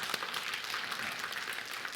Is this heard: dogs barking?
no